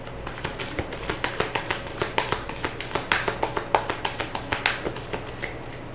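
Tarot cards are shuffled close up in a steady run of crisp, rhythmic riffling taps, evenly spaced and quite loud against a quiet background.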